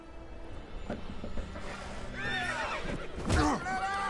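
A horse whinnies twice in a rising, wavering call over a busy Witcher 3 game soundscape with low rumbling and faint speech underneath.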